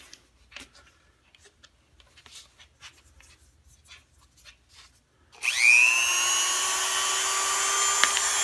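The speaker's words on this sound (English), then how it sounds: "I'm going to do is start out by sanding down to and eliminating all the way up to the first ridge" After a stretch of quiet ticking and fumbling, a high-pitched rotary tool spins up and whines steadily while sanding down a replacement knob for a DeWalt DW788 scroll saw.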